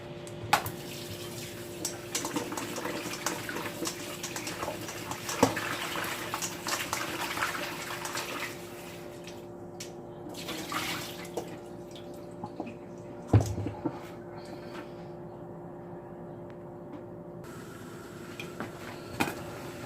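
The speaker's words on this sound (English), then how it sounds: "So I'm just gonna give them a good rinse." Pumpkin pieces rinsed under a running kitchen tap, a steady close water hiss with drips and splashes that thins out partway through, then a few louder splashes near the end.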